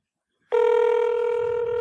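A steady telephone tone starts abruptly after a half-second of silence and holds loud and unbroken, a ringback or dial tone from a call placed to a spam caller.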